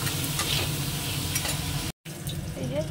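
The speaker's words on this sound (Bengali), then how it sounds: "এই যে কাঁকড়াটা ভেজে তুলে নিলাম।" Crab frying in a pan with a little oil, salt and turmeric: a steady, close sizzle with stirring scrapes, broken by one brief gap of silence.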